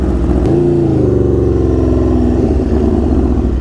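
An Aprilia RSV4 (2021-23) motorcycle fitted with an SC Project CR-T exhaust fires up and settles into a loud, deep, throbbing idle with a brief rev at startup, very close and dominating throughout.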